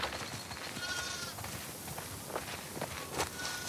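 Sheep bleat in the farm area of The Last of Us Part II, with several short, faint bleats scattered among footsteps and background game ambience.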